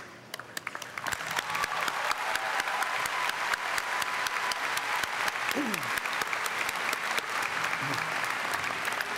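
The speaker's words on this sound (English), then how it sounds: "how about one more big round of applause for these students in their outstanding top 10" A graduation audience at a high school ceremony gives sustained, dense applause for top-ten students, with a few sharp early claps swelling into continuous loud clapping.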